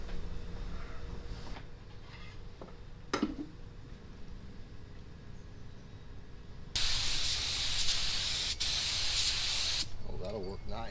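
A paint sprayer hisses steadily for a few seconds, loud and close, during a kitchen remodel, after a quieter stretch of workshop background noise.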